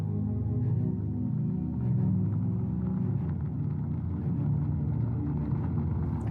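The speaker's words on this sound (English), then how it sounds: "The car begins to pull up." A car rolls up with a low, steady engine rumble and tyre noise, a continuous near drone that swells slightly partway through, with no speech.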